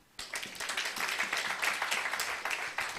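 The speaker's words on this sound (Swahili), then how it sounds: "Simunipigie makofi." A church congregation breaks into applause during a sermon, a dense, steady patter of many hands clapping that starts abruptly and holds for a few seconds.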